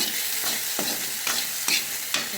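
Food frying in coconut oil in a pan, with a steady bright sizzle and several distinct scraping stirs of a spatula at regular intervals, close up, with no voices.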